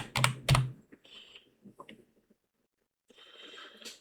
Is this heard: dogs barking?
no